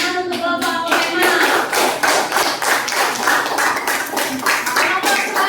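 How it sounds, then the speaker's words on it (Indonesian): A classroom of students clapping for a group of classmates, a dense, steady patter of many hands at close range, continuous for several seconds. "Tepuk tangan untuk kelompok apotema."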